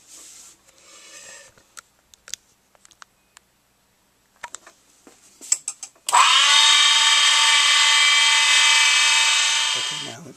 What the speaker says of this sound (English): I need to spot face every 120 degrees down to the 16th of an inch in depth